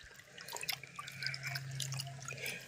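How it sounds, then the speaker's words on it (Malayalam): Water drips from a cotton cloth dipped in water while sprouting ginger, a few faint, scattered drips over a low steady hum. "ഇനി നമുക്ക് ഒരു കോട്ടൺ തുണി എടുത്തിട്ട് കോട്ടൺ തുണി ഒന്ന് ജസ്റ്റ് ഒന്ന് മുക്കി"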